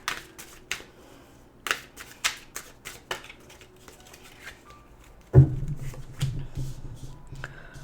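Tarot cards are shuffled in quick riffling bursts with short pauses, followed by a louder shuffle of the deck near the end, close by.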